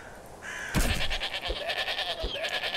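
Sheep in Minecraft give several short bleats over a faint game background, fairly close, with sharp thumps breaking in between the calls.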